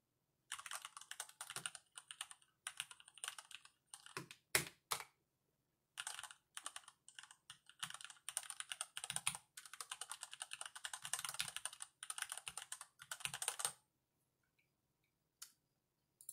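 Close, crisp typing on a Varmilo VA87M mechanical keyboard in fast runs of clicky keystrokes, a few isolated taps near the end, then silence.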